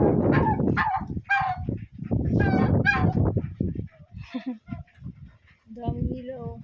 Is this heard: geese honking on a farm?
yes